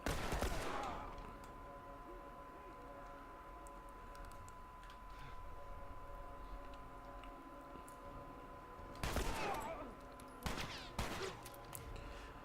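Gunfire from The Last of Us video game: a few sharp, quiet shots and clicks spaced through a mostly calm stretch, with two clustered bursts near the end.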